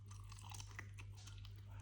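Close, quiet chewing of potatoes, with soft crunchy bites repeating irregularly over a low steady hum and no speech.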